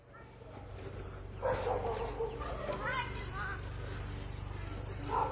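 A white dog barks a few times in short bursts at moderate distance, mixed with background voices and a low steady hum.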